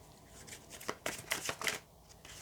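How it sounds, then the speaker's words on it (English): Tarot cards being shuffled by hand, a run of crisp riffling and slapping bursts close up, with no talk over them. "If the cards will shuffle smoothly, right?"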